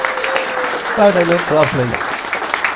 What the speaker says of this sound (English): So can we give a round of applause to them?